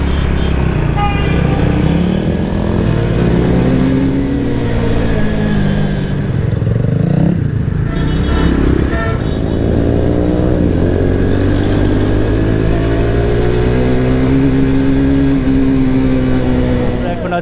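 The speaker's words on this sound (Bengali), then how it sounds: "আমরা বাইকার ভাইরা এখন রওনা দিচ্ছি" A group of motorcycles, including a Yamaha R15 and a Loncin GP, idle and pull away on a roadside in Narsingdi at the start of a long bike tour, with engines rumbling and revving under steady nearby talking.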